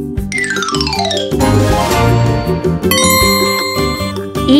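A loud electronic doorbell chime rings several ding-dong tones in succession, bright and ringing out close by with no talking.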